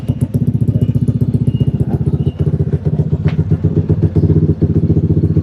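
A loud Honda ADV160 scooter with a modified pipe and exhaust idles nearby with a deep, rapid, lumpy exhaust burble, pulsing steadily throughout with a brief rev partway through.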